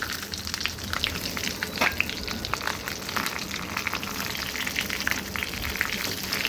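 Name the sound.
stuffed capsicum frying in hot oil in a kadhai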